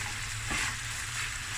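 Lamb knuckle frying in a pot, giving off a soft, steady sizzle with a faint watery bubbling texture, heard close and alone without any voices.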